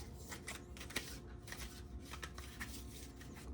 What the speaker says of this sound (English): Let me shuffle these a little bit.